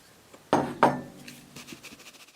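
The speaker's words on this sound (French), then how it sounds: "on mélange les deux ingrédients et on va venir donc tamiser le tout" Flour and baking powder are sifted for a soft cake, with two sharp metallic knocks close up from the sieve against a bowl, followed by faint light taps and rustling.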